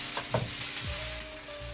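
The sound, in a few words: chopped shallots, onion and garlic frying in popped mustard seeds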